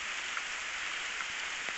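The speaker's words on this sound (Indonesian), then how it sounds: "Ini agak gerimis teman-teman ya," Light drizzle falls steadily over a garden of bird's-eye chili plants beside a house, a soft continuous hiss of rain with a few faint droplet taps, heard alone without talk.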